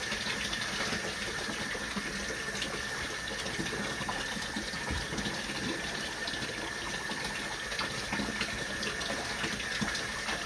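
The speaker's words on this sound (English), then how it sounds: "just release the water from the utility sink. It's on full blast." Water runs full blast from a utility sink faucet, a steady loud rushing hiss with a low mechanical hum underneath, constant throughout with no talk.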